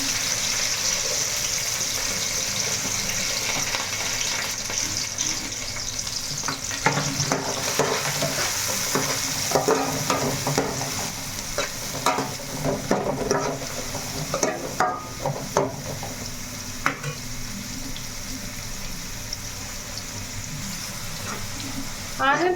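Food fries in a pan with a steady, dense sizzle, while repeated scraping and clattering stirring strokes run throughout, close by and fairly loud.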